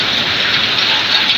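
Heavy typhoon rain roars in a loud, unbroken wash of spatter and hiss across the whole short stretch, with no talking.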